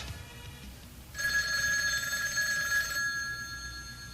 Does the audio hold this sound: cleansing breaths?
no